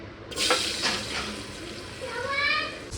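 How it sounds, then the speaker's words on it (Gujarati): Vegetables being tempered sizzle and crackle in a hot pan, a steady frying hiss with a few clinks, while a person speaks briefly over it. "ચલો આપણે વઘારી નાખ્યું શાક"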